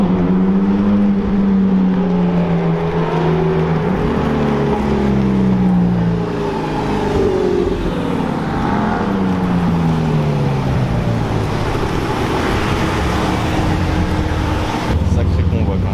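McLaren 720S GT4 and M2 supercars accelerate on a mountain road at Chamrousse, engine tones rising and sweeping steadily at mid distance while someone talks over them throughout.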